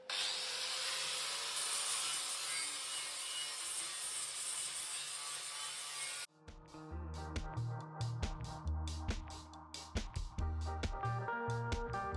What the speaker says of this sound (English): just to get to grinding here